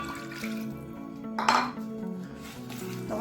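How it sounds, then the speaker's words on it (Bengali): A bowl is rinsed and water poured into a dish of semolina and sour yogurt, heard mostly as close clattering of dishes and metal utensils, with a brief louder splash midway and no talking. "এই বাটিটা ধুয়ে কিছুটা জল দিচ্ছি এখানে"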